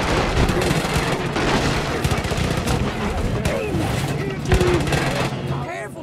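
Sustained gunfire in the video game Far Cry New Dawn, rapid overlapping shots and bursts running loud and dense throughout, with heavier booms mixed in.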